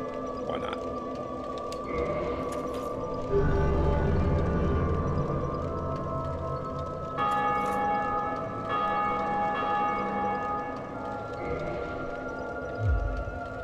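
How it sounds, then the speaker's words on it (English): Bell ringing in the Dark Souls video game, with repeated deep metallic tolls whose long resonant overtones swell and decay over a low droning ambience, with occasional louder rumbling hits. "I just ring the bell. Yeah, hear it?"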